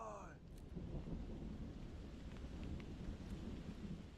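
Thunder rolls during a heavy downpour outdoors under a large tree, a faint sustained rumble with rain hiss throughout, opening with a brief sweeping tone.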